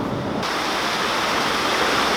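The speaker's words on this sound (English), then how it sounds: "he's gone to let the water out of the next lock so we can carry on up the canal" Water rushing out through the paddles of a canal lock, a loud, steady roar of churning flow that swells in after a brief quieter moment and continues unbroken.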